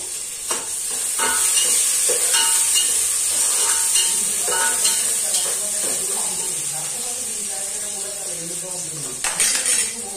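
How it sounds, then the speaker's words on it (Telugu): Onions and green chillies fry in a pan with a steady, close sizzle and hiss, broken now and then by the scrape and clink of stirring, and voices talk faintly underneath. "ఇప్పుడు వచ్చేసి మనం ఆల్రెడీ కట్ చేసి పెట్టుకున్న ఆనియన్ అలాగే పచ్చిమిర్చి అయితే వేసుకోవాలి. వేసుకొని మంచిగా ఫ్రై చేసుకోవాలా."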